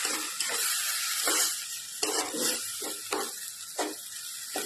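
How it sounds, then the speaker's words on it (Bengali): Spice paste and shrimp frying in plenty of oil while being stirred, with a steady close sizzle broken by short bursts of louder hissing and scraping at regular intervals. "মশলাটা আমি মিশিয়ে নেব, চিংড়ি মাছের সঙ্গে ভালো করে মিশিয়ে নেব।"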